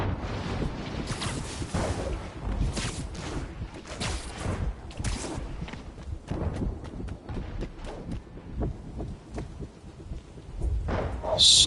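A thunderstorm rolls through a Spider-Man video game, with repeated rumbling bursts and gusty wind noise rising and falling throughout, ending in a louder swell.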